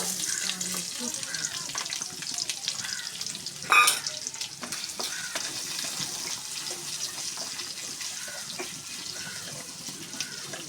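Small onions fry in a pan while being stirred, a steady crackling sizzle with scraping stir noises and one sharp clatter midway, fairly close and without talk.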